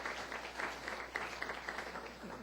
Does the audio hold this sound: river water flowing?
no